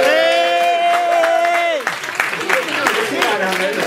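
A meeting audience at a socialist gathering breaks into applause for a woman standing up in the crowd. The steady clapping follows a sustained voice and continues under a speaker talking over it.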